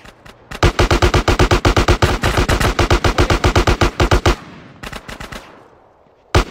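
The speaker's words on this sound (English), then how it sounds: "if you're properly body armored and you have the firepower of the AK, you can just start taking these guys down" An AK rifle in GTA San Andreas fires long, rapid automatic bursts, loud and close. The rhythm is evenly spaced and steady, then a pause, a short final burst and a trailing echo.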